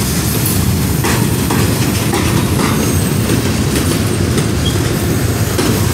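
CSX and Norfolk Southern container freight trains pass westbound at Amity Street, a loud, close, continuous rumble with steady clickety-clack of wheels on rail joints.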